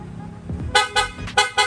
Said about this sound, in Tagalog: Tapos busina, rapid horn